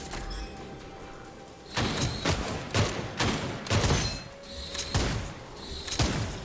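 Shotgun blasts in Gunfire Reborn boom in an uneven series of about eight heavy, close shots, each with a short crashing tail.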